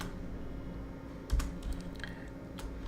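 Someone types on a computer keyboard in a few soft, brief key clicks over a steady low background hum, with no one talking.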